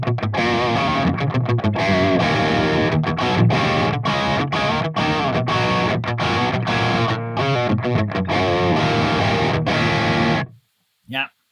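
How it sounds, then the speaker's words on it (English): Crunchy, distorted electric guitar played through an Audio Assault Hellbeast amp simulator on a metal channel with moderate gain, strummed chords and chugging riffs loud and continuous for about ten seconds before stopping, followed by a brief final hit. "you can get some really nice crunchy tones as well"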